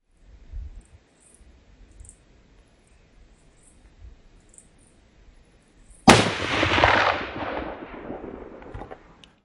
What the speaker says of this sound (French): Revoyons le tir au ralenti.